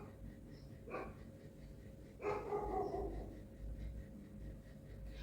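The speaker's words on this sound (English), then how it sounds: "Let's wait for this dog to settle down." A dog barks twice at a moderate distance, a short bark followed after a pause by a longer, louder one, over quiet background noise with no talk.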